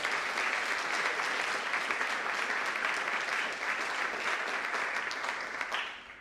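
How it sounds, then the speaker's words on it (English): Audience at a high school honors night applauding a scholarship award, a dense sustained clapping that thins and fades toward the end. "Give him another round of applause."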